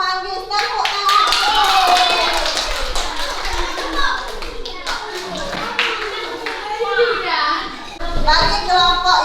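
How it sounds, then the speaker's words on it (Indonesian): Group of schoolchildren clapping in a classroom to cheer a winning team, steady busy applause mixed with children's chatter and a teacher's voice throughout. "Tepuk tangan."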